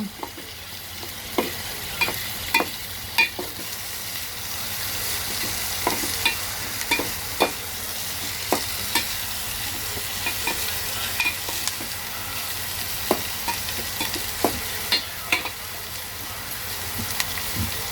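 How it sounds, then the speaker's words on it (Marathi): Onion sautés in a pan for a spinach bhaji, a steady close sizzle and hiss with repeated sharp scrapes and taps of a spoon stirring at irregular intervals throughout, and no talking. "कांदा परतून घ्यायचा."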